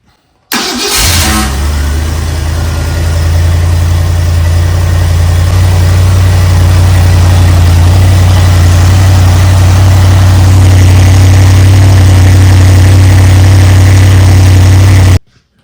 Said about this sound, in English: The engine's running really good.